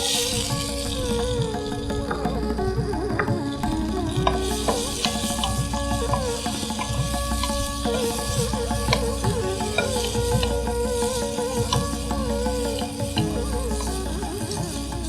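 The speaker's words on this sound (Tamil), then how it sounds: "இந்த இதில் சுண்டைக்காயை போட்டு வதக்கிப்போம்" Turkey berries (sundakkai) sauté in hot oil with asafoetida in a pan, giving a steady close sizzle with frequent scraping and stirring from a spoon, and no talk.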